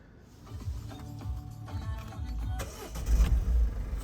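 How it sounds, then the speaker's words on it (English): A 2015 Peugeot Partner 1.6 HDi 850 S van's diesel engine cranks with a whirring starter, then catches into a low rumbling idle that grows louder toward the end, heard close up. "And then turning the vehicle on."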